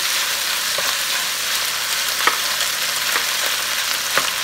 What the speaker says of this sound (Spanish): Y freímos en lo que es la cebollita y todos los vegetales.